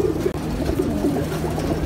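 Several pigeons coo steadily at a pigeon farm, a dense overlapping low burble close by with no voices.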